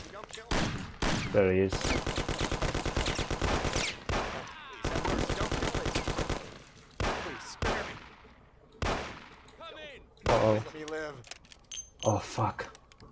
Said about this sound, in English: I'm shooting. Somebody has a shotgun or something.